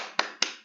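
Two crisp unison hand claps from children doing a rhythmic classroom spirit clap, evenly spaced, close and fairly loud, each with a short ringing tail and no voices.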